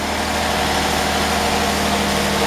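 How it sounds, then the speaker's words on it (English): A Fiat 130 with a 3.2 litre V6 idles steadily on fast idle in a smooth, even hum. It sounds loud and close, with no talk. "So that's with the fast idle on. It's pretty smooth."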